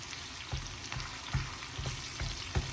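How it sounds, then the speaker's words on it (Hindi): Onions fry in hot oil for a tadka for a savory moong dal, a soft continuous sizzle broken by several faint stirring knocks, no voices. "और यहाँ पे हमारा बन रहा है तड़का"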